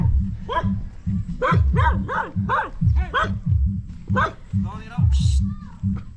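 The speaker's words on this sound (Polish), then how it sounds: "Już nawet psy na mnie szczekają" Several dogs in a Filipino neighborhood bark repeatedly in quick, loud bursts close by, with yips and a whimper near the end, while someone talks underneath.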